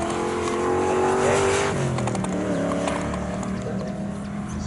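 A TVR race car in a Dunlop TVR Challenge race roars along a circuit straight, its loud engine note holding steady and then dropping as it shifts, with other cars close by.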